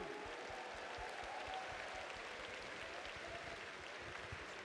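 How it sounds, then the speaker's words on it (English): Live crowd applause from fighting game fans at Evo 2022 in the Mandalay Bay, Las Vegas, a steady, dense wash of clapping that holds at an even level throughout. "I need another round of applause for you guys right here, live in the Mandalay Bay for Evolution 2022."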